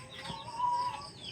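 Chickens clucking and calling softly at a farmyard feeding spot, a steady murmur of short bird vocalizations without clear individual peaks, moderately near.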